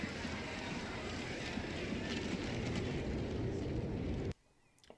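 A Schweiler steam blower train in Transport Fever runs as a steady, broadband rushing roar that holds evenly for about four seconds before cutting off abruptly into near silence.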